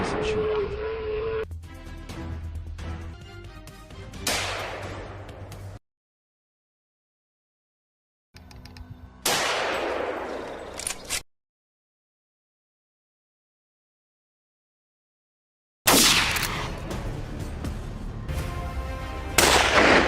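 Rifle shots fired at wild hogs raiding corn fields ring out as several sharp, loud reports in separate bursts with silent gaps between them, while a voice talks over parts of the scene.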